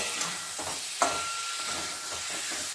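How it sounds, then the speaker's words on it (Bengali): Okra and paneer fry in a pan while being stirred, producing a dense, close sizzle with rhythmic scraping strokes and a sharp clink of utensil on metal, with no voices. "পনির দিয়ে 2-3 মিনিট নাড়াচাড়া করে নেব।"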